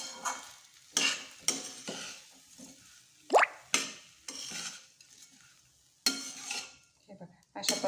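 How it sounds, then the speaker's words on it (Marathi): Rice sautéed in a pan for spiced masala rice, a spatula scraping and stirring in repeated bursts with soft sizzling between strokes and one sharp metallic clink, close and alone. "हे बघा अशा पद्धतीने सगळे तांदूळ चांगले परतवायचे"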